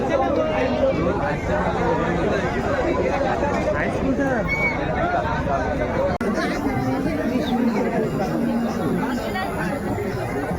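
Dense crowd chatter at a historic temple fair in the Konkan region, many overlapping voices forming a steady, loud babble that continues without pause, close around the listener.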